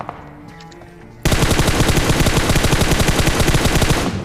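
Gunfire in a mobile battle royale game: after a quiet stretch of soft game sounds, a loud, rapid automatic burst erupts and continues without pause for about three seconds, each shot evenly spaced in a fast rhythm.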